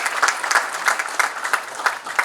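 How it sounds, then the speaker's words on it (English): An audience at a formal defence-sector conference gives steady, moderately loud applause, with many hands clapping together for a couple of seconds. "Dr. Padma Bhushan, Dr. Saraswat, a big round of applause, ladies and gentlemen."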